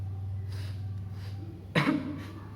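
A man with influenza gives a single harsh cough close by, after a few soft breaths, during an Indonesian stage monologue.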